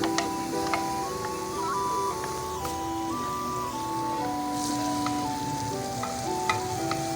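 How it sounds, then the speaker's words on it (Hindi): A medium chopped onion fries in about half a cup of oil, giving a steady, close sizzle with faint stirring clicks throughout, with nobody talking. "अब हम इसमें 1 मीडियम साइज़ की कटी हुई प्याज डालेंगे और उसको ब्राउन करेंगे।"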